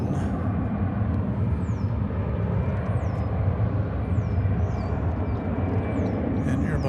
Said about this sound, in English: All right, we have taking off here. American Flight 868 to Austin.